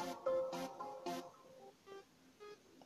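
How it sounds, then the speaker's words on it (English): A bell melody programmed in FL Studio Mobile for an amapiano track rings out as a few quiet, short tonal notes with bright accents early on, fading into sparse softer tones. "it's the bell, and it sounds like this."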